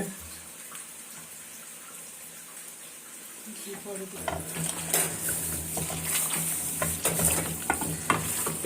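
Oil and ingredients frying for a Bengali country chicken curry: a quiet start builds into loud, busy sizzling with repeated scraping and stirring clatter, under faint background voices.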